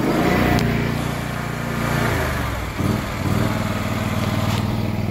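A gas-powered piece of lawn equipment runs steadily close by, its engine drone loud and continuous with a brief dip in the middle.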